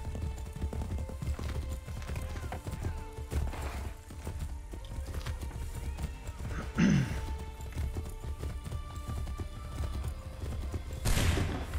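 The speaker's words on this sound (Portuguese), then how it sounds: "Monte no cavalo, Ratona Keton." A horse in Assassin's Creed III Remastered gallops with rhythmic clip-clop hoofbeats under a low ambient score, giving a sharp whinny midway, with a brief burst of noise near the end.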